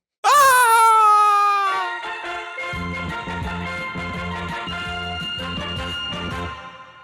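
A loud, shrill scream from a Dragon Ball Z episode rings out abruptly and holds for over a second before fading, followed by a steady rhythmic music bed continuing underneath to the end.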